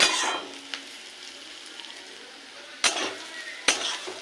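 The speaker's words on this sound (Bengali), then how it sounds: "যতক্ষণ না সেন্ট বেরোচ্ছে একটু ভেজে নেব।" Moong dal dry-frying in a pan gives a faint, soft sizzle, with a few sharp scrapes or knocks of a spoon against the pan near the start and end, close by and without any voices.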